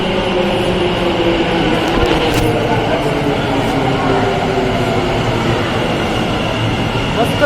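An Ahmedabad metro train runs steadily with a loud, continuous rumble and hum of wheels on rails, heard from inside the carriage, with faint voices under the noise.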